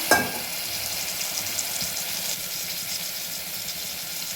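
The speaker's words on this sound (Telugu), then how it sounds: "ఇప్పుడు ఆలుగడ్డలు వేసుకున్నాము" Potatoes sizzle in hot oil with ginger garlic paste and turmeric for an aloo methi curry. A steady, fairly loud frying hiss follows a sharp burst as they hit the pan, with no voices.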